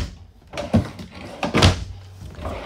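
A big kitchen drawer in a 2023 East to West Alta 1900MMK RV is pulled and pushed, giving a couple of close, dull thuds and soft sliding rumbles with no talking.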